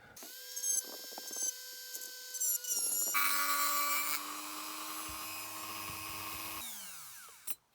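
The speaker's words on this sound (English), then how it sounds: "Got to take those off with a little Dremel." Small Dremel rotary tool grinding parts off a metal Dinky Toys No. 111 Triumph TR2 diecast car, a high whine in short bursts at first, then a longer steady grinding stretch that winds down at the end.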